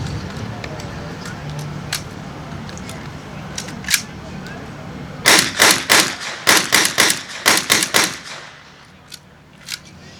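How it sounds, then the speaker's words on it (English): A WW2 Soviet army gun fired semi-automatically outdoors: a handful of scattered sharp reports first, then a rapid string of about a dozen loud, evenly spaced shots, each with a short echo. "So we'll go ahead and fire this one for you."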